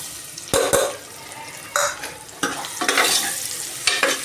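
Onions hit hot oil with a bay leaf in a pan, giving bursts of sharp sizzling and stirring scrapes, several loud splashes of frying against a quieter crackling bed.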